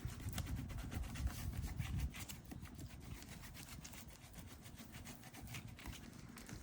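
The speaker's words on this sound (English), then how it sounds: "now burnish it down" A scrapbook page in a bee-themed mini album gets paper burnished down, giving a continuous close scraping and rubbing with quick repeated strokes and no talking.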